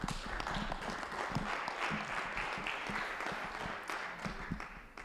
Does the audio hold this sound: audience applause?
yes